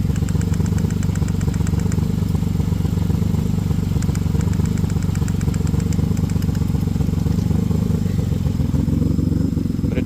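A six-cylinder car engine with a random misfire idles loudly up close while its spark plug wires are pulled, a rough, steady chugging drone with irregular clattering ticks throughout and no talking.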